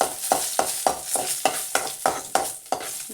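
Cumin, neem leaves and a cut dried chilli tempering in hot oil give a steady close sizzle, broken by a regular series of sharp spatula scrapes about three times a second.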